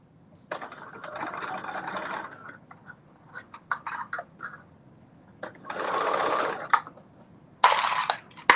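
A sewing machine stitches in several bursts during a live sew-along of a McCall's 8037 dress pattern: steady whirring runs, the longest about two seconds, separated by quiet pauses and small mechanical clicks, close and alone without talk.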